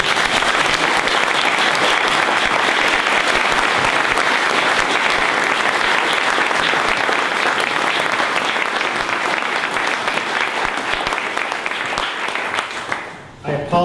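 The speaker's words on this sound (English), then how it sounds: "how about a round of applause to thank Curt." A large audience applauds to thank a speaker, with dense, loud, sustained clapping that carries on for over ten seconds before tapering off near the end.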